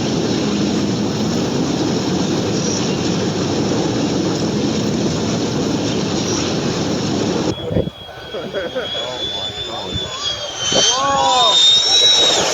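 A jet aircraft roars very low and close overhead, a loud continuous rushing blast that cuts off abruptly, followed by quieter noise and excited voices reacting.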